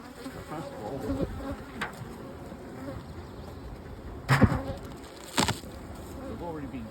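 Honey bees buzz steadily around an open hive while a frame of brood is being checked, with a soft continuous hum and a few louder close passes and knocks.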